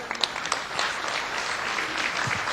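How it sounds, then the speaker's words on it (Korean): An indoor audience gives a brief round of applause. It begins with a few sharp claps and then settles into a short, moderately loud patter. "박수 한번 주세요."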